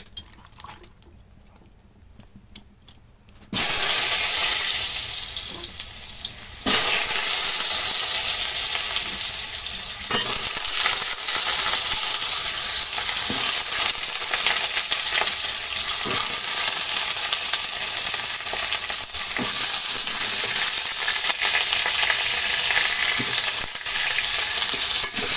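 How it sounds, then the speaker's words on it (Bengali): Potatoes dropped into hot oil in a village kitchen, starting with a quiet pause and then bursting into a loud, continuous sizzle and crackle that swells again as more go in and stays steady to the end. "দেখো আলুটা ভাজবো, তেলটা গরম হয়ে গেছে।"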